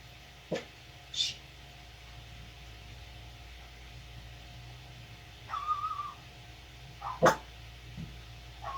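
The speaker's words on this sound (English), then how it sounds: "why are you barking?" A few faint, sparse dog barks sound at irregular moments from somewhere away, with quiet background hum between them.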